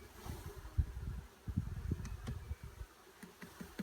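Honey bees massed in a shipping package hum in a low, uneven drone, with buzzy pulses swelling and fading close to the microphone and no voices.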